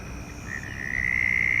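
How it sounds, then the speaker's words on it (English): Frogs croaking in grass just after a bird flies off, a dense rising chorus of close, shrill trilling calls that builds in loudness over a low background murmur. "As soon as the bird's gone, the frogs start back up."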